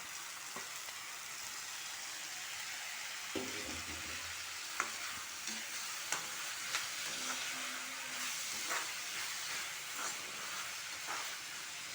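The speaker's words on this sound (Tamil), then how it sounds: "தக்காளியும் போட்டு நல்லா வதக்கிட்டு" Tomatoes sauté in oil in a pan for egg masala gravy, a steady close hiss of frying with occasional scraping stirs and soft knocks of the spatula, with no talking.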